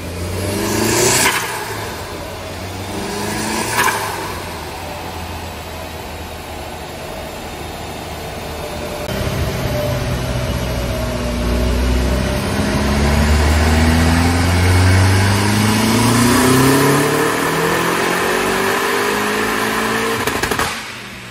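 Audi TT Mk1 tuned to about 380 horsepower revving hard on a dynamometer, with short throttle blips followed by a long loud pull climbing steadily in pitch, no talking.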